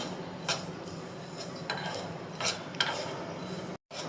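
Fennel seeds and spices dry-roasting in a pan for mango pickle, with a steady low rustle of seeds and scattered sharp scrapes and ticks of a spoon stirring against the metal, close and fairly quiet, no voices.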